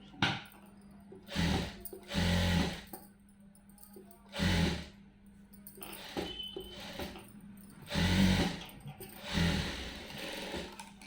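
A sewing machine stitches a blouse in several short runs of rapid needle chatter separated by pauses, fairly quiet over a low steady hum.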